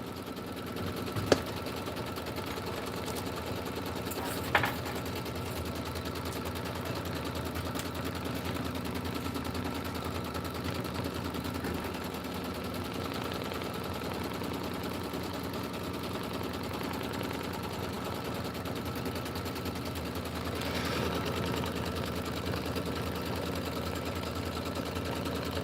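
A sewing machine stitches out a Kimberbell County Blooms pillow design in a steady, fast mechanical hum, with two sharp clicks near the start and faint handling noises layered over the continuous motor.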